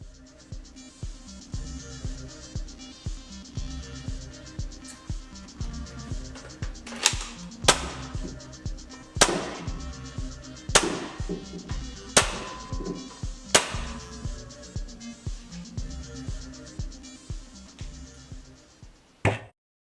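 A Worker Cheetah Nerf blaster with its stock spring firing Nerf rounds in a garage. Sharp, evenly spaced pops ring out one after another over a low mechanical whir, with about five louder shots standing out in the middle.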